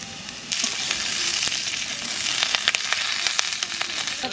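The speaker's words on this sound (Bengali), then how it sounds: "আলু ভাজার মধ্যে কটা কাঁচা লঙ্কা দিয়ে দেবো।" Potatoes frying in a pan with green chillies added, giving a steady close sizzle with sharp crackling pops that grow busier after the first half second, no voices.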